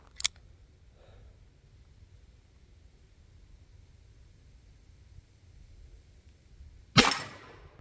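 A Smith & Wesson Model 10 bull-barrel revolver fires one single-action shot at a range: a loud, sharp blast with a short ringing tail near the end, after a faint click and a long quiet stretch.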